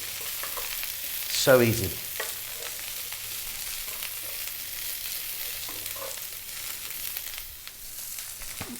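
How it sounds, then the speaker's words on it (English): Fresh broccoli dropped into a hot pan with grilled chicken, a loud burst of sizzling and stirring at the start that settles into a steady frying hiss, with a brief remark spoken near the end. "next up I'm going to go with a nice handful of fresh broccoli, and again another couple of minutes."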